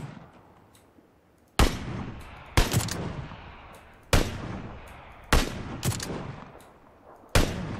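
Several sharp gunshots in the video game Battlegrounds ring out at irregular intervals, each a loud crack with a short decaying tail, about six or seven in total.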